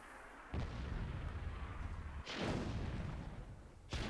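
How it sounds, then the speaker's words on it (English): Grenade explosions from the video game Myth II: three loud, sharp booms with rumbling tails, spaced about one and a half seconds apart over continuous battle noise. "Throwing some nades."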